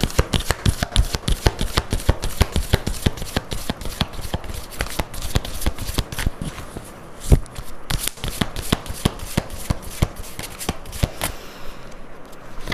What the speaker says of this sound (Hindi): टैरो कार्ड्स से देखते हैं कि उनके फीलिंग्स क्या है,